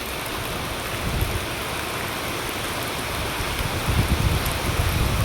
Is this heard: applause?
no